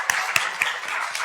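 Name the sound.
audience applause for the teams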